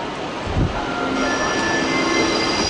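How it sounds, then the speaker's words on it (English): An Intercity train pulls out of Köln Hauptbahnhof bound for Frankfurt, with a loud, close, steady rolling rumble and thin, high wheel squeals that sharpen and hold. No voices. "I'm really hoping I'm standing in the right place this time to see the IC depart for Frankfurt"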